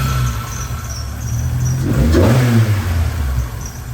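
Toyota AE86 engine revving up, loud and close, with a rising engine note and a thin, steady high squeal from a faulty pulley running through it for about four seconds.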